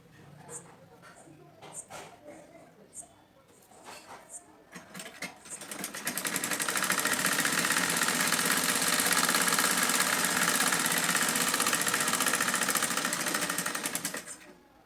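Sewing machine stitching blouse lining and main fabric together, a loud steady mechanical whir starting after some handling noises and a voice, then running continuously to the end.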